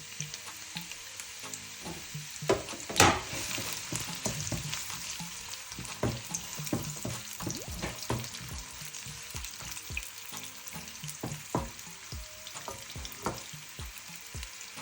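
Chopped onions fry loudly in a hot pan for a Ugandan-style vegan eggplant stew, a steady close sizzle broken by irregular clanks and scrapes of stirring, with no talking.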